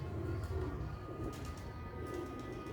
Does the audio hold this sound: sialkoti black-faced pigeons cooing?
yes